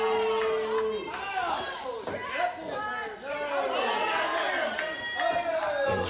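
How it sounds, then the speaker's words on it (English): A wrestling crowd inside the Green Valley Skating Center murmurs and chatters steadily, with a commentator's voice running over the noise throughout. "Great crowd here at the Green Valley Skating Center"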